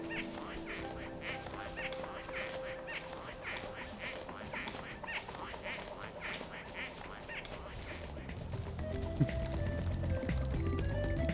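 Rhythmic quacking of a duck in the video game Spyro 3: Year of the Dragon repeats steadily over game music and ambient effects, moderately loud and continuous.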